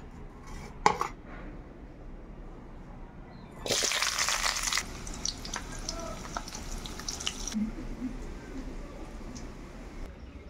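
Taro stems and sour leaves are washed in water: quiet handling and clinks, then a loud, splashy rush of water about a second long midway, followed by softer clatter.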